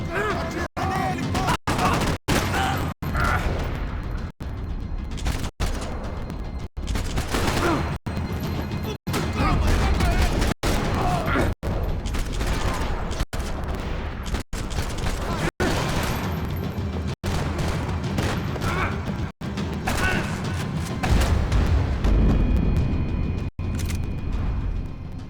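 Gunfire rattles through a Max Payne 3 shootout, with repeated loud bursts, crashes and impacts across the whole stretch while voices shout in between.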